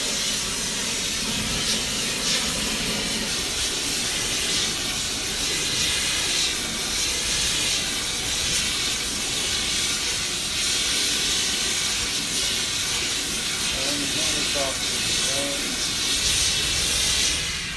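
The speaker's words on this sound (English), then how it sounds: "taking the blade, heating it up with a torch, and quenching it in our heat treat oil" A torch heating a forged steel chef's knife blade gives a loud, steady roaring hiss that runs close and unbroken the whole time, with no voices over it.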